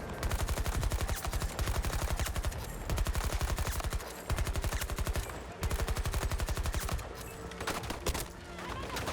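PP29 submachine gun in Battlefield 2042 firing long rapid automatic bursts, a dense stream of sharp close shots broken by short pauses between strings.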